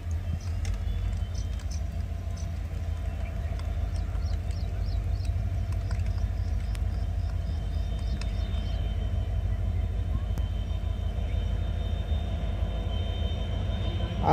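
A train on a trial run toward Vighanwadi railway station rumbles in a steady, loud low drone, with faint squeaks and whistle-like tones above it and no talking.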